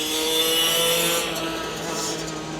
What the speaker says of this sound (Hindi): आपने देखा कितना शोर मचाया इस बाइक ने